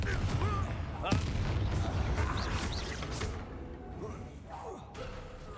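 A Confringo blasting spell goes off in the Hogwarts Legacy video game, giving a loud burst and crackling impact over a dense, rumbling game soundscape.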